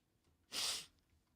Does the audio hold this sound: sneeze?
yes